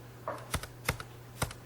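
A computer keyboard is typed on in a few separate, crisp keystrokes at close range, with a steady low hum underneath and no talk.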